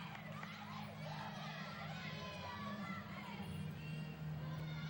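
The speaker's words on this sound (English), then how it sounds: "The team, especially senior Andrea Mitchell, is cheering and supporting her every move" Gymnastics teammates at a 2011 NCAA women's meet, LSU at Kentucky, cheer a balance beam routine with a steady wash of crowd noise and excited voices over a low hum.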